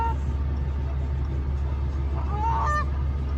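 An angry goose on a property honks a short, sharp call a couple of times, partly masked by a loud, steady low engine rumble from an idling truck.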